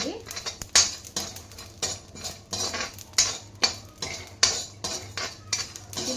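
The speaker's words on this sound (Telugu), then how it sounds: "అండ్ నెక్స్ట్ కొబ్బరి, ఇంకా జీలకర్ర. ఇవి రెండు కూడా బాగా వేయించుకోవాలి." Coconut and cumin dry-roast in a pan over a low flame, with a rhythmic clink and scrape of a spatula against the metal roughly every half second, close and fairly quiet.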